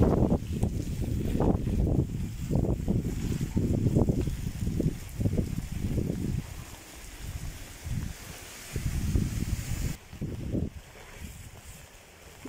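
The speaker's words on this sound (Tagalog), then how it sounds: "Ang hagupit ng hangin." Strong wind from Typhoon Goring in Baguio batters a microphone outdoors in repeated loud, rumbling gusts that rise and fall, with brief lulls between the blasts.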